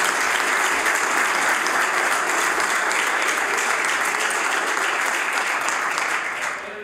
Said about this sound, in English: Notwithstanding the self-serving applause